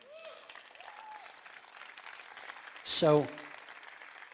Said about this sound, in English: you can clap for that, sure